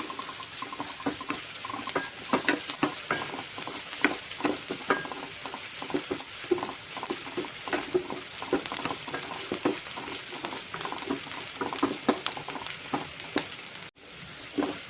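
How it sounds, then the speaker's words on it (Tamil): Onions, green chillies and curry leaves sizzling and frying in a pan while being stirred, a continuous crackling hiss broken by frequent utensil scrapes, close and unbroken by talk. "பச்சை மிளகாலாம் போட்டதுக்கப்புறம் நல்லா கலந்து விட்டுக்கோங்க"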